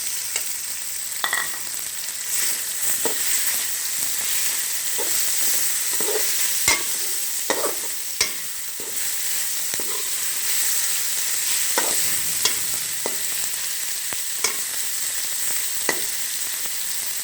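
Chicken pieces frying in a pan, a steady close sizzle broken by repeated scraping stirs and clinks of a utensil against the pan, with no talking.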